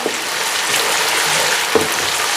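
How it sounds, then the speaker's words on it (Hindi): Chicken pieces frying in a pan, a steady close sizzle and crackle with a couple of soft clinks or stirs. "चिकन को थोड़ा सा फ्राई करेंगे"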